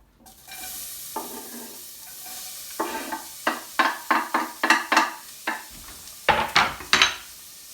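Garlic cooks over low heat in a pan for keto tomato sauce, a soft sizzle under a series of sharp, close scraping stirs from a utensil against the pan, coming faster and in clusters toward the end.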